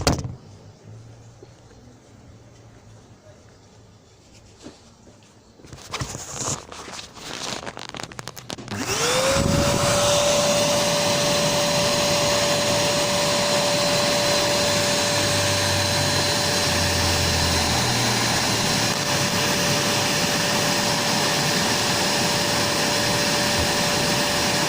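A vacuum drawing a bee colony out of a hollow tree at Villeneuve-le-Roi starts after some handling noises, then runs as a steady loud whine with a constant motor tone, humming alone for the rest of the clip.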